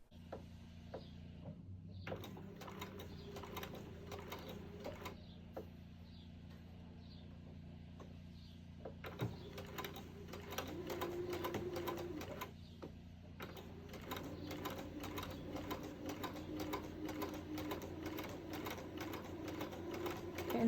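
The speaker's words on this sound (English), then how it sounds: "I started in one direction and I sewed a 1/4 inch down this side and I stopped here" A sewing machine stitches fabric for a basket, running in steady mechanical bursts with short pauses between runs, close and fairly loud with no talking.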